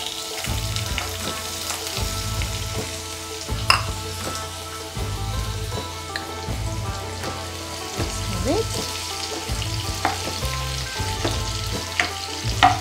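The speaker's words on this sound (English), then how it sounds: "Let the onion get cooked a bit." Onions frying in hot oil with panch phoran spices, a steady close sizzle with crackles and occasional stirring clinks, with faint talk in the background.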